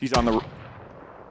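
A single loud gunshot in a zombie survival game, a sharp blast with a short ringing tail that fades quickly, a voice speaking briefly over it.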